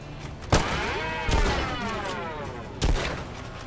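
Pistol shots in the Fallout: London video game: three separate sharp reports, spaced about a second apart, each with a short ringing tail, loud and close with no talk.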